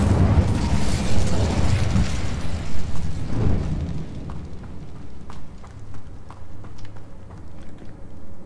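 A fiery Incendio spell blast in Hogwarts Legacy erupts as a loud, roaring burst lasting a few seconds, then trails off into softer crackling and small pops.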